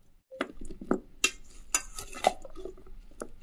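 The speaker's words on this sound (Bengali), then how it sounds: "পেঁয়াজটাও মিশিয়ে দেব, একটু নাড়াচাড়া করে সবগুলো একসঙ্গে ভালো করে মিশিয়ে নেব" Vegetables and onion being stirred together in a dish for baking give off soft scraping and scattered clinks of a utensil against the bowl, close and fairly quiet, with no talking.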